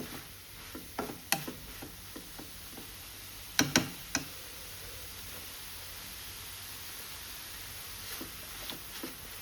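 Kudduchi bhaji cooks on a gas stove with a faint hiss, broken by scattered soft spoon taps and clicks against the pan.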